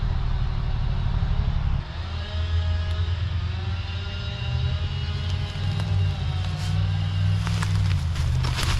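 Road traffic passes near a traffic light, with a steady close wash of car engines and tyres that shifts after about two seconds into lower idling and accelerating vehicle rumble, continuing unbroken throughout.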